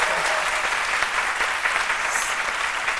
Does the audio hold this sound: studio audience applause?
yes